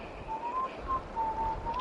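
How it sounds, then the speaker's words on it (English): A person whistling quietly in a few short, thin tonal phrases, faint and somewhat distant over low background noise, in an old film scene. "shut up that whistling"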